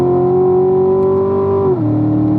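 Race car on the track, the 2018 CL1, with its engine note holding steady and loud under throttle, then a quick shift drop near the end before it keeps pulling. A close, continuous sound with no talk.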